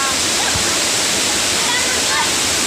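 A waterfall on a small river pours in a steady, loud, broadband roar that fills the whole stretch without a break.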